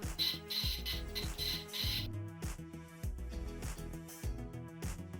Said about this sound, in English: That's exactly what a 3D printer sounds like.